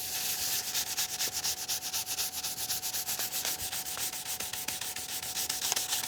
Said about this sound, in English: Just sanding with the grain.